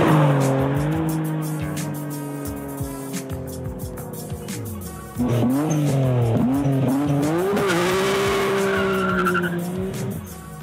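A Nissan Skyline R34 comes up the road, its engine note rising and falling through gear changes and growing louder as it approaches, alone with no talk.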